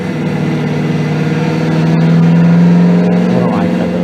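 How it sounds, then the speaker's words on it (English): A Porsche race car at an endurance race at Watkins Glen gives off a loud, steady engine drone that rises slightly in pitch midway, heard from a live broadcast with voices talking over it. "That's not any Porsche I've ever heard."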